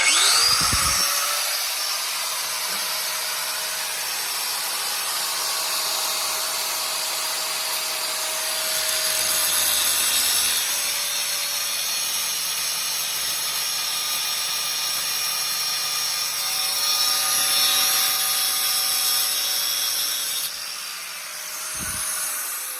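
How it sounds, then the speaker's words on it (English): A grinder works on a Kawasaki FH641V lawnmower engine carburetor, giving a loud, steady high-pitched whine with a brief spin-up at the start and a spin-down near the end, running alone with no talk. "we're gonna modify carburetors with a grinder today"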